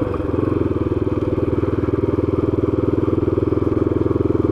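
Motorcycle ride through a residential lot development, Parque Campestre in Boituva, the engine droning steadily and close with a fast regular pulse throughout, no talk.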